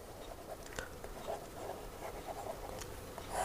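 Pen on paper, close and quiet, as physics problem data is written out by hand: a soft, steady scratching with short strokes and brief pauses, no voice over it.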